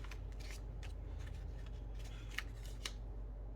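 Scissors trimming paper ephemera for a junk journal, a run of soft, close snipping strokes with a couple of sharper cuts near the end, heard alone over steady low room hum.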